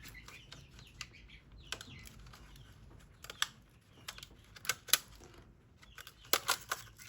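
An old cassette tape player being stripped for parts, its eject mechanism giving sharp plastic clicks and clacks in irregular bursts against a quiet background.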